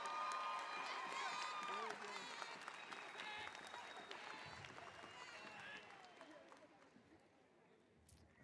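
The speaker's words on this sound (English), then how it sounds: "Let's give Chance another round of applause." An audience at a high school commencement ceremony gives a round of applause, a dense, loud wash of clapping with some cheering that slowly thins and fades toward the end as a voice speaks over it.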